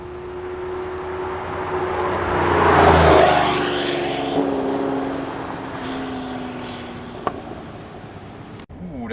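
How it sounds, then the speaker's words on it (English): A Ferrari F80 hypercar passes on the road, its engine rising to a loud drone as it approaches and then fading away, with a rising whine and some brief talk over it. "Ooh, that's a new Ferrari F80"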